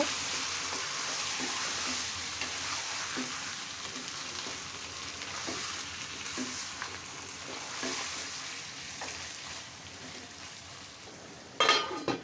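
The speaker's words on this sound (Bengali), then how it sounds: "এখন আমি মাংসটা দিয়ে দিলাম এখন নেড়ে চেড়ে দিব" Marinated mutton fries in a pan with a steady sizzle while being stirred. Soft scraping strokes repeat throughout, and a louder clatter of the utensil comes near the end.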